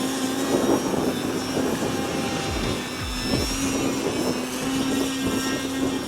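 An E-flite Timber RC bush plane hovers, its electric propeller holding a loud, steady droning whine that wavers slightly in pitch as the throttle shifts, with no talking.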